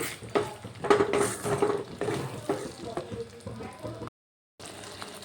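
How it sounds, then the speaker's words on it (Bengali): Spice masala with whisked sour yogurt being stir-fried for a vegetarian potato curry, a clanging spoon scraping and stirring over a steady sizzle, close and fairly loud, then a brief pause before the sizzle returns. "দিয়ে আবারও ভালো করে কষিয়ে নেব"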